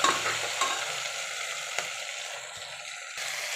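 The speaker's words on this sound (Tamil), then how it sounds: "வெங்காயம் போட்டாச்சு, நல்லா வதக்கிக்கலாம்." Onions sautéing in oil in a pressure cooker after whole spices for a veg kurma, a continuous close sizzle with stirring scrapes and a couple of sharp clinks, no voices.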